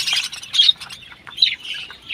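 Caged colony birds squawk close by in a backyard pen, harsh, raspy calls coming in several separate bursts with brief quiet gaps between them, loud and unaccompanied by talk.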